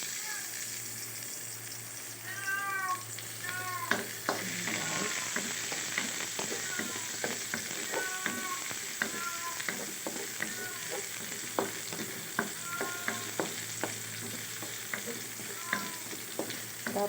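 Onion and garlic sautéing after ginger for chicken curry, a soft steady sizzle with repeated scraping stir strokes and light utensil clicks, close and moderately quiet, without talk.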